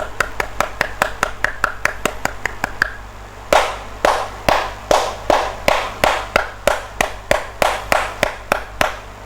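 Hands clapping close to a computer, a long steady series of sharp claps, first quick and lighter, then slower and louder with a short ring after each, over a constant low electrical hum.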